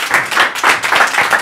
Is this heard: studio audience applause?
yes